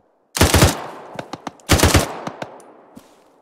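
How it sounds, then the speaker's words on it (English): Automatic gunfire in a military video game set in a NATO counter-assault on Soviet-held Finland: two loud close bursts, each followed by scattered single shots that fade with a trailing echo. "Somebody's shooting at us."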